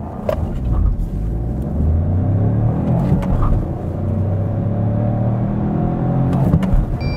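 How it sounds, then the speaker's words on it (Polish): Peugeot 308 pulling away from a standstill in a 0-100 km/h acceleration run, engine droning and rising steadily in pitch through the gears, heard from inside the car with no talk. "Wynik przyspieszenia od 0 do 100 jest podawany orientacyjnie."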